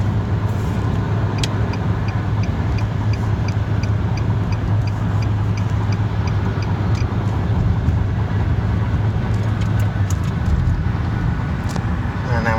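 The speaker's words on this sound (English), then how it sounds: "Now we're in 6th gear, just cruising along." A 2012 Nissan Sentra SE-R Spec-V cruising in sixth gear on the highway at around 60 mph, giving a steady, loud interior drone of engine and road noise with a constant low hum throughout.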